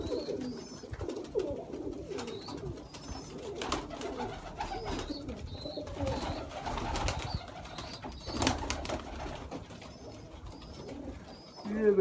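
Sialkoti pigeons of the choohay breed coo repeatedly in a loft, soft rolling calls close by mixed with occasional chirps and background rustling.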